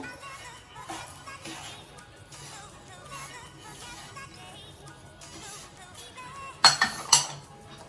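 A spoon stirs coconut semolina laddu mixture in a pan, soft clinks and scrapes under quiet talking, ending in a few louder metallic knocks.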